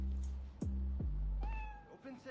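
A cat meows in the Spider-Man video game, carried in a backpack: a couple of short, close meows followed by a longer rising mew, set over a low steady background hum.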